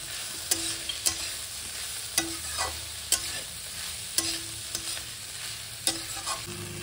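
Cumin and coriander powder sizzle steadily in a pan while a spatula scrapes and taps the metal at regular intervals, close and moderately loud.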